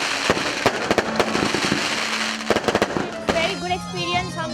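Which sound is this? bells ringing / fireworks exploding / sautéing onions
fireworks exploding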